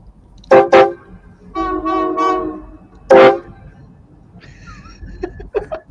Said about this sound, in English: You can hear the engineer honking the horn, saying hello to everybody as it comes through town.